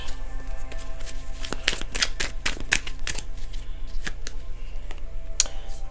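A deck of cards being shuffled for a reading, the stiff papery riffles and slaps coming in quick bursts close by, with a soft steady hum underneath.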